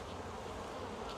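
Dense, continuous buzzing of many Buckfast honeybees in a busy queenless hive, a steady close drone with no pauses and no voices.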